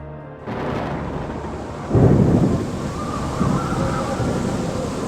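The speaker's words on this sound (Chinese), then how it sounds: "开始下起了大雨，而且风势越来越强" A heavy storm with thunder, strong wind and downpour in a forest camp, a continuous loud roar of rain and wind with deep rumbling surges swelling about two seconds in and again near the end, no voices.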